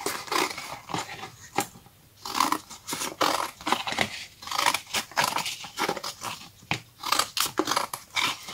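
Scissors cut through paper while making an origami pencil holder, a series of crisp snipping and crunching strokes in irregular rhythm, close and fairly quiet, with no speech.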